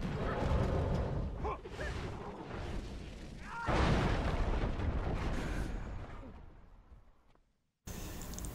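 Guild Wars 2 downstate skill blast that launches foes away, a loud booming, rumbling explosion effect lasting several seconds, then a brief silence before more game sound resumes.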